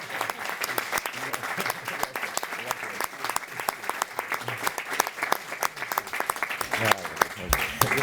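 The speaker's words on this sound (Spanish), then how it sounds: "yo les pido para ellos un fuerte aplauso" Audience applause fills a conference hall at a Sijena heritage restoration event, dense and steady throughout, with a faint voice now and then beneath the clapping.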